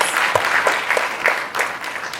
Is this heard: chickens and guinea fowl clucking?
no